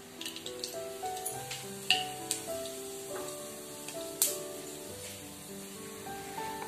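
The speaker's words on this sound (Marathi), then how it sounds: "आता आपण तेल तापलं की त्याच्यामध्ये फोडणी करून घेऊ." Mustard seeds and cumin crackle in hot oil for tempering stuffed masala brinjal, a quiet sizzle with scattered sharp pops beneath prominent melodic background music.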